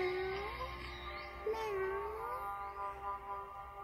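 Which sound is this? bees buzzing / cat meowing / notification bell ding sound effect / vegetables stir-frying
cat meowing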